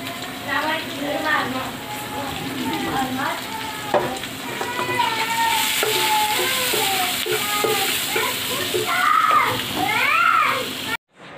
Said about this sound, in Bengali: আমি কিন্তু ডিম হলুদ দিয়ে, হলুদ আর লবণ দিয়ে ডিমটা ভেজে নিচ্ছি